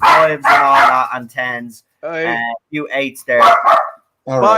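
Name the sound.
dog barking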